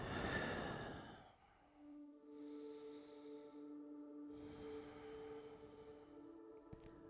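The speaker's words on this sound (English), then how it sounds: "And keep breathing." Slow, audible exhale and inhale during yoga poses, soft breathy sighs at close range over a quiet room with a faint sustained musical drone underneath.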